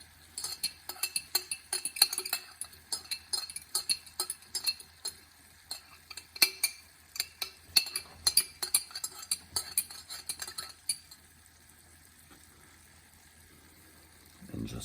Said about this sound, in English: now we take the fork, and we try to scoop out as much as possible